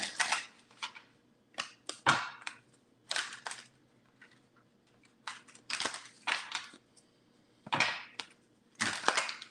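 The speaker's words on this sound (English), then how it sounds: "Oh, that's a small shuffle." A deck of tarot cards being shuffled in short, papery riffling bursts, about a dozen separate flurries of crisp card flutter and slaps spaced by brief quiet gaps, close and moderately loud.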